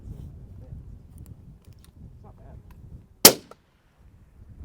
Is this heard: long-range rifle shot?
yes